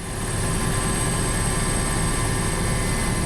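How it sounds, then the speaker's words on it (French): Helicopters flying at low altitude over a refugee camp and a devastated coastline, heard as a steady, loud rotor and engine drone that holds without a break throughout, with no voices. "Les hélicoptères volent à basse altitude"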